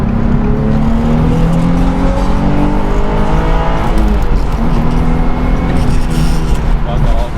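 A Nissan 350Z engine with a burnt clutch revs hard and climbs through the gears, loud and close, with wind noise and some talking mixed in.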